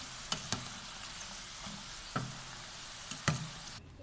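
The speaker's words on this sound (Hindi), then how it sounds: "हम बाकी के भी फ्राई कर रहे हैं।" Semolina diamonds crackle in hot oil as they deep-fry, a quiet continuous sizzle broken by several sharp clicks and knocks of a spoon against the pan, with no speech.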